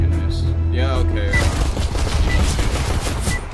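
Rapid bursts of gunfire in CS:GO on the T-side, a dense barrage of shots crackling close and loud throughout, with a brief voice-like tone near the start.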